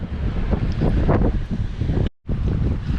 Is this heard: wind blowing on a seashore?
yes